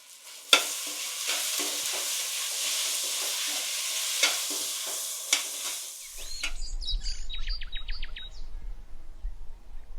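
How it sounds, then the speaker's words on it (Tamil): Vegetables sizzling and being stirred in a hot pan, with scraping spatula strokes; the frying then quiets as faint birdsong chirps in the background. "எல்லாத்தையும் நல்லா வதக்கிட்டேன்."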